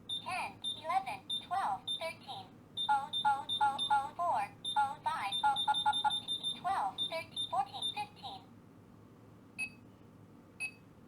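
A cheap LED projector alarm clock speaks the time in a synthetic voice, then breaks into a rapid, insistent electronic beeping pattern, close and clear over a steady low hum, fading to sparse beeps at the end.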